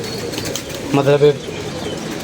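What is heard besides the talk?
pigeons cooing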